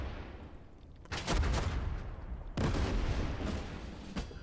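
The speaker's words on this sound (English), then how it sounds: "let's focus our fire here on the enemy tank with our tank" Tank cannon fire in the World War II strategy game Total Tank Generals: two loud, deep booming shots a little over a second apart, each with a rolling rumble, plus a sharper crack near the end and a low background din.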